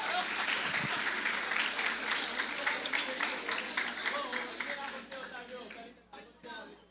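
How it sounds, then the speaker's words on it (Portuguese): An audience in a church auditorium gives a strong burst of applause that tapers off over several seconds, with voices talking over it. "Palmas pro Otávio."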